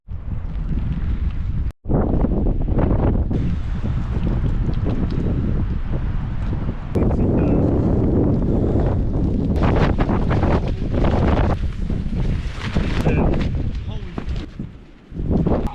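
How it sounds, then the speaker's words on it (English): Strong wind buffeting the microphone at a wilderness campsite in New Zealand, a loud continuous roar and rumble that gusts and swells throughout, with faint voices partly buried beneath it. "Way too windy."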